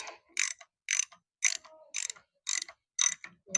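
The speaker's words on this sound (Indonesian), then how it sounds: "saya pilih menggunakan kunci shock biar lebih mudah" A 30 mm socket wrench ratchets while tightening a fitting on a Shark 2 HP air compressor, giving about eight crisp, evenly spaced bursts of rapid clicking with short silent gaps between them.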